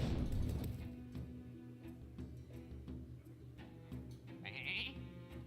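Sheep bleating in the card game Hearthstone, a single drawn-out bleat at the start, followed by quieter game clicks and a brief chime.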